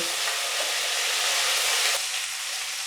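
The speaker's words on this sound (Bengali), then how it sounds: "দিয়ে পুরো মশলাটাকে খুব ভালো করে কষিয়ে নেব।" Spice masala with turmeric and salt fries in a pan for paneer malaikari, a dense, even hiss of sizzling that holds steady and eases slightly near the end, with no voices.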